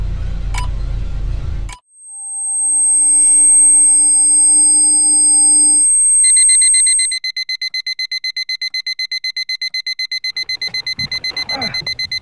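A timer alarm sounds in a taxi, starting with long steady electronic tones and then switching to a rapid, continuous train of loud beeps. A voice is heard faintly near the end.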